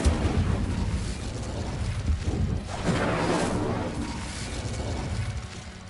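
An Incendio fire spell cast in Hogwarts Legacy gives a loud, roaring burst of flame with whooshing, crackling bursts that swell and hold for several seconds before easing off.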